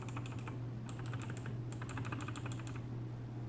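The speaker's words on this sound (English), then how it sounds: "the switches are on the Kailh blue is a lot clickier if you listen" Keyboard with Kailh Blue mechanical switches typed in quick clusters of sharp, clicky keystrokes, close up over a steady low electrical hum.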